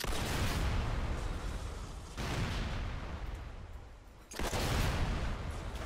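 Weapons firing in Halo Online Forge on the Valhalla map: continuous dense roaring gunfire and blasts, loud and broadband, with two abrupt cuts where the sound restarts.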